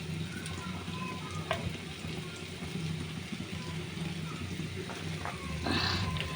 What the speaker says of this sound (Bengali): ওই পাশ ভাজার জন্য একটু তেল দিতে হবে, সেজন্য আর একটু তেল দিয়ে দিলাম